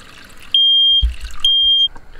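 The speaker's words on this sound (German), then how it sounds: "dass der Rauchmelder losgegangen ist" A smoke alarm set off by smoke from deglazing caramel shrills in two long, loud, steady high-pitched beeps separated by a short gap, with quiet kitchen clatter in between.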